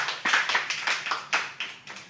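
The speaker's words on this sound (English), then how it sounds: "A round of applause, why not?" Rhythmic clapping, about nine evenly spaced claps, close and fairly loud, like a single person applauding.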